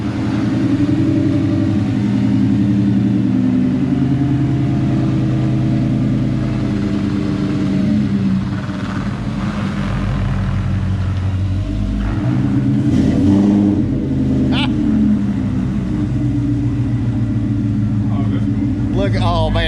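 A newly finished car runs under its own power for its first drive, the engine rumbling and revving steadily at close range throughout, with excited voices talking over it.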